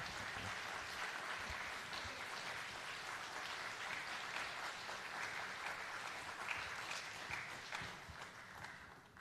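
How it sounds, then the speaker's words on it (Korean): A church congregation claps in sustained, even applause at a Sunday evening service welcoming a North Korean defector's testimony, a dense wash of many hands with no talk over it. "격려의 박수 해 주시겠습니다"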